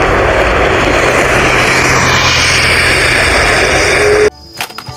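Steady, loud airplane engine drone for a Boeing toy plane, running continuously and cutting off abruptly near the end.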